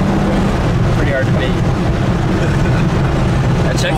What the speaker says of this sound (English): It's got that little cackle in the exhaust.